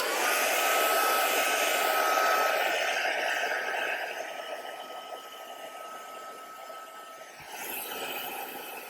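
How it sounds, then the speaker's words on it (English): A hair dryer blows with a constant whooshing hum and high whine, close by, used to dry watercolour artwork, dipping slightly in pitch and loudness partway through. "I'm just going to grab the hairdryer to release this tape"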